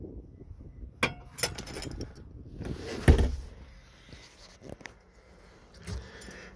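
The original keys of a 1968 Shelby clone, originally a 1967 Fastback GT S-code, jangle and clink in several light, scattered bursts. A louder knock falls in the middle, and the background is quiet.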